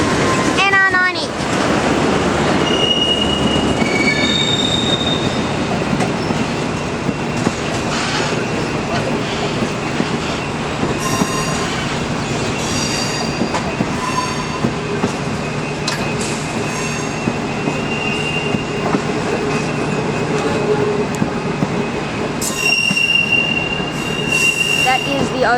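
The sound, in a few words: NR90 locomotive hauling the Overland train at Southern Cross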